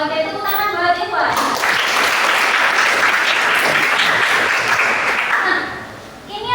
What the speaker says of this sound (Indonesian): tepuk tangan buat Iwan.